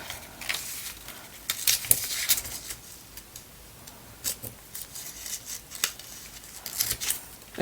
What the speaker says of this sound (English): Okay, so the next thing I want to do is I'm going to cut.